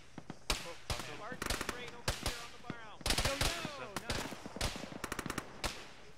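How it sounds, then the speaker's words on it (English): Heavy gunfire in a military video game crackles in rapid bursts of sharp shots, mixed with overlapping distant pops and fragments of voice chat between volleys. "We're taking heavy gunfire"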